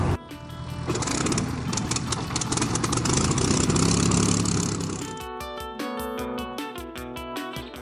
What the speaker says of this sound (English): the starting up of the Spitfire engine